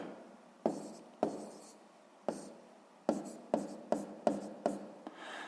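Pen writing fractions by hand on paper, a series of about ten short scratchy strokes in an uneven rhythm, close and clear with quiet gaps between them.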